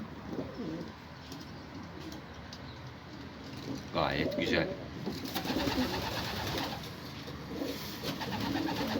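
Pigeons of many different breeds coo softly and repeatedly amid a busy flock of hundreds in a loft, with wing rustles and someone speaking over the birds.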